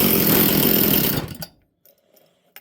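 A chainsaw engine runs loud and raspy for just over a second, then abruptly cuts out, leaving near silence broken by a few faint clicks.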